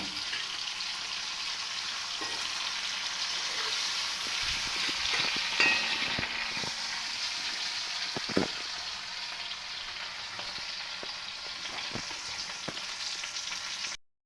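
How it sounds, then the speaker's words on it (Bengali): Garlic and chopped green chilli fry in hot oil in a pan, giving a steady, close sizzle throughout with a few soft knocks of stirring before it cuts off abruptly. "তো বন্ধুরা, রসুনটা লাল লাল করে ভাজা হয়ে গেছে"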